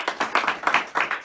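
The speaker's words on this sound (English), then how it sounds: "So let's give him a round of applause." Audience applause following a speaker's introduction at a talk about SARS-CoV-2, a short burst of many hands clapping with rhythmic peaks, moderately loud and close, with no voices over it.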